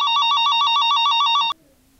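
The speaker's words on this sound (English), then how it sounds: "Oh, it's your cell phone." A cell phone rings with a loud, rapidly trilling electronic ring that stops abruptly after about a second and a half, close by and alone.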